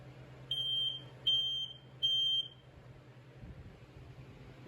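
Three shrill, evenly spaced electronic beeps ring out from a FireX I4618 smoke alarm, clear but moderately quiet over a low background hum, followed by near silence.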